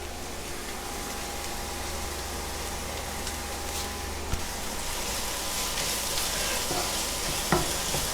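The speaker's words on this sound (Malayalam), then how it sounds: "ഇതൊന്ന് നന്നായിട്ട് വഴറ്റിയെടുക്കാവേ." Liver with onions and salt sautéing in a pan, a steady close sizzle and frying hiss running throughout with a couple of brief scrape or clink accents from stirring.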